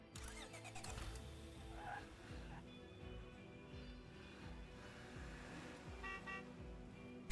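A car in the State of Decay 2 video game starting up and driving off, with engine rumble, a short horn-like toot and a steady motor drone, moderately loud.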